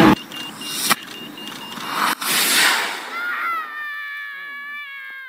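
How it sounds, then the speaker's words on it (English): A McGill student team's rocket booster ignites and lifts off in a loud, broad roar that swells for about three seconds, then thins into fading high whistling tones as the vehicle climbs away. "booster ignition, and liftoff"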